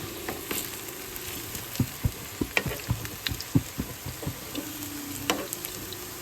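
Grated coconut hits a hot pan and fries with a soft, steady sizzle, overlaid by a run of quiet, rhythmic stirring scrapes and taps close by.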